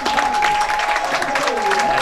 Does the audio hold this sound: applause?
yes